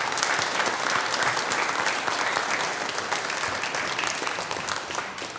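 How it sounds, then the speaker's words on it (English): An audience at a local history talk about Markdale claps loudly and steadily for several seconds, a dense even wash of many hands that eases off slightly toward the end. "So let's give all of them and Jeff another round of applause."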